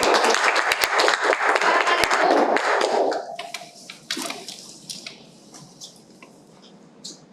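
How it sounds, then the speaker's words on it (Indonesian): A classroom of students breaks into a burst of clapping that lasts about three seconds, then fades into scattered shuffling, a few stray claps and faint voices. "berarti tepuk tangan semuanya"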